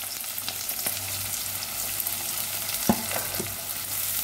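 Chopped onions and green chillies fry in oil in a pan for a Telugu brinjal and raw mango curry, giving a steady close sizzle with a few stirring scrapes and no talking.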